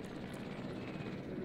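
A helicopter in the Jurassic World video game gives a steady, dense rotor drone. The sound is a continuous mid-level whir with no breaks, heard alone without voices.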